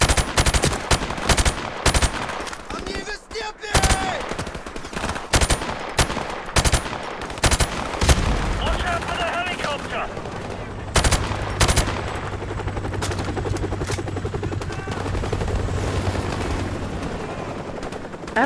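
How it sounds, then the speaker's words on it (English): Heavy gunfire in Call of Duty 4: Modern Warfare, loud rapid automatic bursts and single shots crowding the first half, then continuing more sporadically over a low engine or rotor hum. "Open fire!"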